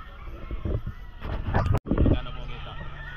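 Chickens cluck and call among chatter at a pet market in Calumpit, with scattered fowl sounds under close voices.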